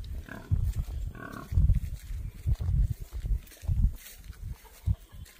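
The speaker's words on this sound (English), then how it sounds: "Let's go see the little screaming goats." Goats scream on a farm: two loud, harsh bleating cries stand out early, over a steady rumble of shuffling and snorting from nearby livestock, with no talking.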